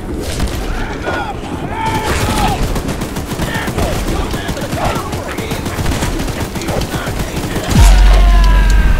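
Sustained gunfire from the horror video game Choo Choo Charles, dense and loud, with a heavier burst near the end, under frantic talking.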